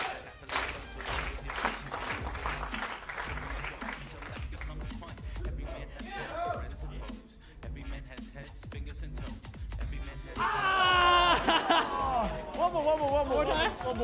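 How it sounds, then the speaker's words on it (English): A live eFootball championship crowd chatters and murmurs, then bursts into louder cheering and applause near the end, with people talking over it throughout. "Please, hype up the crowd for us."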